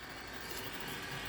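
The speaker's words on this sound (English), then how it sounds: "That noise you can hear is the rotisserie turning." A barbecue rotisserie motor turns steadily on a Beefmaster Deluxe four-burner built-in gas barbecue with its back cover on, giving a continuous, fairly faint whirring hum with no pauses.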